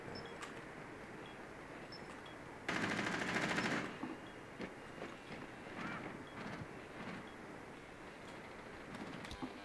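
Automatic gunfire in Rainbow Six Siege: a dense sustained burst of about a second, then scattered sharper single shots and impacts, with quiet background noise between.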